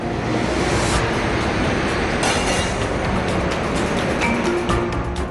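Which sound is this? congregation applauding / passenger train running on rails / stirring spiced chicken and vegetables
passenger train running on rails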